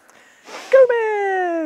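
A house cat gives one drawn-out, falling meow indoors after a moment of soft rustling, close and fairly loud.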